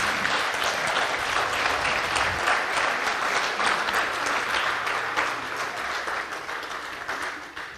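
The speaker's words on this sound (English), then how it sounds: "you can give them a round of applause already" At a university excellence awards ceremony, a seated audience gives sustained, even applause, a dense wash of clapping that holds steady and then tapers slightly toward the end.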